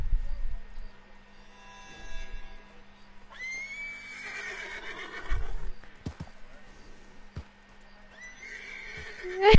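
A horse in the online western game Red Dead Redemption neighs loudly in long whinnies, with clip-clopping hooves and a low background hum, while players talk over it.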